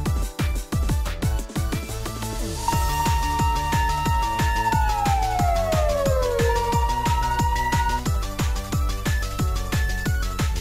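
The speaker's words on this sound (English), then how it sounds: "Police car." A police car siren wails steadily over a busy, rhythmic background, its pitch holding then sliding downward, loud and close throughout.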